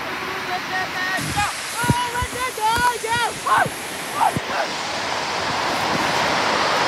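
Ocean waves break on the shore in a broad, continuous wash of surf, while people talk over it close by.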